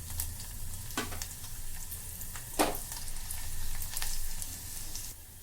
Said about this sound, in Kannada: ಬರೀ ಸಾಸಿವೆ ಎಲ್ಲ, ಜೀರಿಗೆ ಸಿಡಿದಿದ್ದಾಯ್ತು. ಬೆಳ್ಳುಳ್ಳಿ ಹಾಕೋಣ. ಇದೆರಡು ಒಣಮೆಣಸಿನ್ಕಾಯಿ ಹಾಕ್ತೀನಿ.